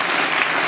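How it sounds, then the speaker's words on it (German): A brief, dense burst of studio audience applause on a German talk show, steady and loud for under a second. "Applaus."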